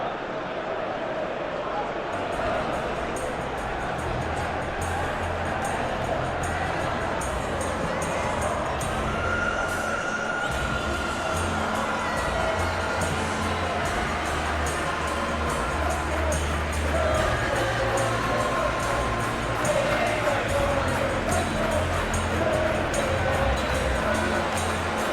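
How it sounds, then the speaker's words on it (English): Simulated stadium crowd in the PES 21 football game, Manchester City versus Chelsea, a constant dense roar of a capacity crowd with cheering swells, steady and broad throughout, with commentary voices over it. "The matchday noise at this place is truly special."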